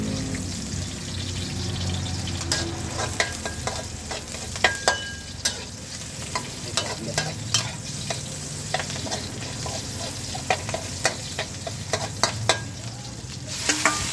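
Steady sizzling of fresh chili stir-frying in a hot wok with repeated scraping clicks of a spatula stirring, close and continuous, no talking.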